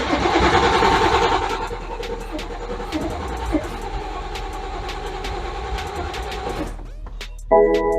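A BMW G30 540i, left parked for six months, cranks loudly up close: a strong whirring starter churn that eases into a steady grinding spin for several seconds, cuts off abruptly, then a brief separate mechanical sound follows.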